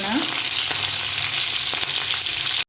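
Green chillies fry in hot oil in a pan for a spicy horse-gram dish, a loud, steady, close sizzle that cuts off abruptly at the end.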